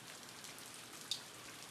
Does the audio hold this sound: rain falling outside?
yes